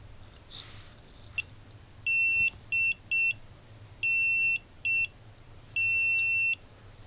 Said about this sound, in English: There are some objects on my table, that's why it's beeping all the time.